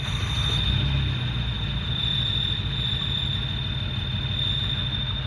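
Renault Le Car engine running steadily just after starting, a close, even idle with a high whine over it and no talking.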